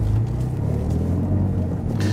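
A Peugeot 308 GTi with a 1.6-litre petrol engine running on a race track, heard as a steady, loud low engine rumble that holds at a constant level throughout.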